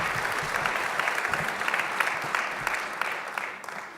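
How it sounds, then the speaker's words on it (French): A crowd at a municipal New Year's greetings ceremony in Le Perreux-sur-Marne gives warm, sustained applause, a thick even clapping that tapers slightly at the end. "Merci pour vos applaudissements"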